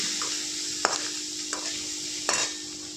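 Chopped onion with a pinch of salt sautés in a pan for potato chutney: a steady soft sizzle runs throughout, broken by three or four distinct scraping stir strokes, close and fairly quiet, with no talking.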